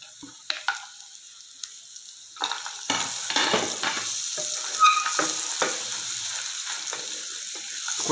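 Carrot and beetroot halwa stirred in a pan with cardamom powder, raisins, fried dry fruits and cream, giving a close sizzling, frying hiss with repeated scraping strokes that grow busier after a quieter start, with no voices.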